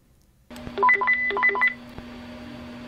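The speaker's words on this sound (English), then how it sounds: "let's have a little listen to the ringtones" A short electronic tone melody from a two-way radio plays over a steady hum: quick bright beeps in a rising and falling pattern, then a held tone continues alone.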